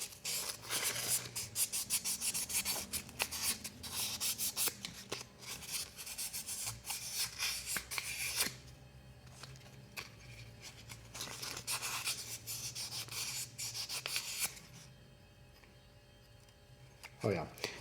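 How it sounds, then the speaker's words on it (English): A jaw harp frame is rubbed with 1000-grit sandpaper, giving a quick scratchy back-and-forth rasp in short bursts, fairly quiet and close, with pauses between passes. "I'm just gonna hit with 1000 grit sandpaper"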